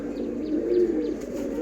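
Pet pigeons coo softly and continuously, a low throaty warbling close by with a few faint chirps above it, no voices.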